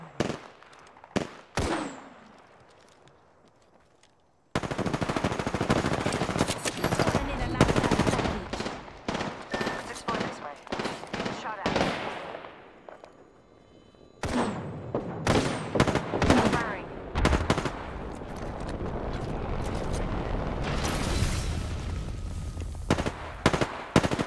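Bursts of automatic gunfire in Apex Legends, loud rapid volleys in several clusters with short quiet gaps, close and sharp, with speech underneath.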